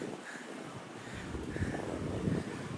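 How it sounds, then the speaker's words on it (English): A strong breeze off the water in Sheepshead Bay, Brooklyn, buffets the microphone in low, uneven rumbling gusts that swell toward the end, with no talking. "Strong breeze coming off the water over here."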